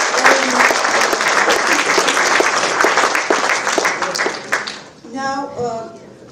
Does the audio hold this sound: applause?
yes